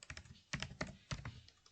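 Someone types on a computer keyboard while entering data into a spreadsheet, producing a few quiet, close clusters of key clicks with short pauses between them.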